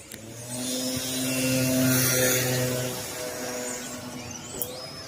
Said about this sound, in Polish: No niestety motocykl zagłuszył troszeczkę.